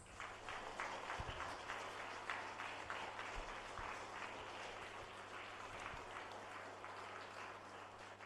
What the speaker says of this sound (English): congratulating all of today's prize winners with one final round of applause